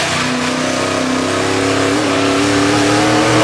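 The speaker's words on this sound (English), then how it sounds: "Another awesome sound of that V8 power then" A loud, roaring V8 race car engine at a 2009 European Le Mans Series race climbs steadily in pitch as it accelerates hard down a straight, heard close up and continuous throughout.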